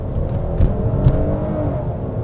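A 2025 Hyundai Palisade Calligraphy AWD SUV engine pulls hard from a standstill, its steady drone rising in pitch over a couple of seconds, heard from inside the cabin.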